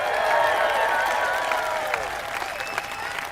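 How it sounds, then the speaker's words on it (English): Town hall audience applauding with steady, moderately loud clapping that continues throughout, with a few cheers and voices mixed in. "Let's give him a round of applause."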